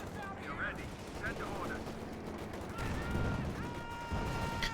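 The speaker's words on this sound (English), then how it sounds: "South here, grenades going off." Grenades and gunfire in the Company of Heroes 2 battle game make a dense, layered stream of rumbling blasts and rattling shots, with a voice speaking over part of it.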